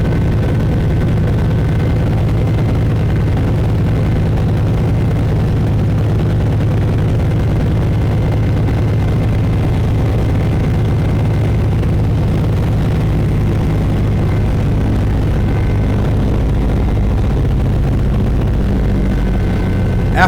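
An airplane making a bumpy approach and landing at an island fills the cabin with a loud, continuous low engine drone that holds steady throughout, with no voices.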